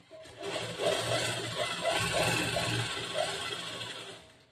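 A sewing machine stitches a back-hook blouse at a tailoring class, running with a steady, fairly loud mechanical whir and a faint rhythmic beat throughout.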